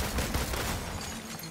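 Gunfire in Marvel's Avengers, aimed at adaptoids: a rapid stream of shots in a dense, continuous burst at close range.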